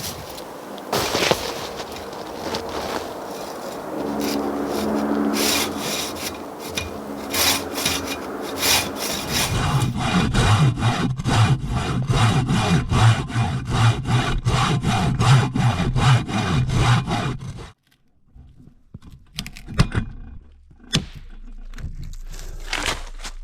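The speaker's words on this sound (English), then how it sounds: "I'm just going to continue cutting firewood for the afternoon." Firewood is sawn by hand in the woods, a close, rhythmic rasp of back-and-forth strokes that grows denser before stopping abruptly, followed by a few scattered knocks and rustles.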